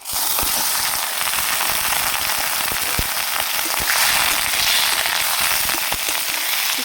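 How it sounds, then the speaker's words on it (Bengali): Chicken frying in a wok gives a loud, constant hiss with occasional sharp crackles and spits, steady throughout with no voices. "চিকেনটা আমি 10 মিনিটের মতন ভেজে নেব।"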